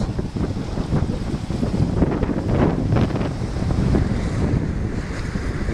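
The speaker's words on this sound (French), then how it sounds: "c'est un coin où il y a toujours du vent" Strong wind buffets the microphone over rushing waves on the Atlantic, a loud continuous roar at sea with no voices.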